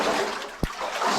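Water trickles steadily through a flooded section of an abandoned mine, a constant close wash with one brief, sharper drip or splash partway through.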